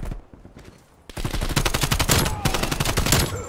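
Rapid automatic gunfire from Call of Duty Cold War while shooting bots in a practice match: quiet at first, then a loud, dense stream of shots with brief gaps, no talking.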